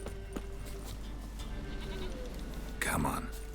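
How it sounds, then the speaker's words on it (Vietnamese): A goat bleats in The Witcher 3: Wild Hunt, one short bleat near the end over a steady ambient game soundscape, with a voice talking beforehand. "Là you nghe tiếng are. con dê."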